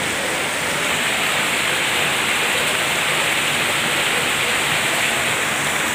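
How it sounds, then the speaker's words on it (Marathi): Heavy morning rain pours down in a dense, unbroken roar that stays loud and even throughout, with no voices. "तर भरपूर असा पाऊस येतोय बघा."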